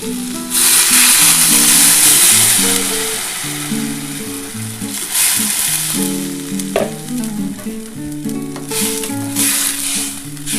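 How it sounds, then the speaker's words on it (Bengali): A loud hissing burst as water hits hot frying potatoes, settling into steady bubbling sizzle over soft background music. "এবার আমি কিন্তু জল দিয়ে দিচ্ছি"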